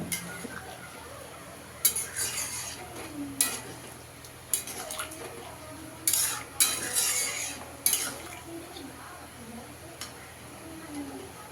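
Potatoes cooked with mint leaves simmer in a pan with added hot water, with a soft bubbling bed broken by repeated sharp scrapes and clinks of a spoon stirring against the metal, and someone talking quietly at times.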